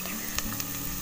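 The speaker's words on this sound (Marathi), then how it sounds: "कांदा आता चांगला परतून झाला." Chopped onion with chili masala sizzles steadily in a pan, a constant close hiss with a few soft ticks and pops, no voices.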